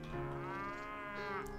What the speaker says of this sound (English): I guess you can see cows in there.